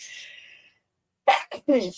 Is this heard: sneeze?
yes